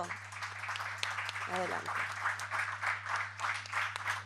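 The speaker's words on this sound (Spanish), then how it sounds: "Un aplauso, por favor" An audience at a student current-affairs competition claps over a steady low hum. A voice briefly speaks near the start, and the applause is moderate and continuous under it.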